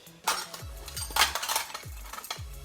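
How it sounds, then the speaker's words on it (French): An aluminium spoon and fork clink and rattle as they are handled. The light metallic taps come in several quick bursts at close range, with no talk. "Une cuillère, une fourchette, donc c'est de l'alu, ça pèse rien."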